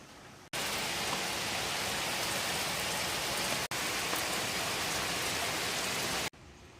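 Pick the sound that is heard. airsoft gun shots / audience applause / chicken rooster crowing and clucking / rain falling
rain falling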